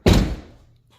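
A single solid thunk of an Audi A5 3.2 car door shutting nearby, with a short fading resonance afterward.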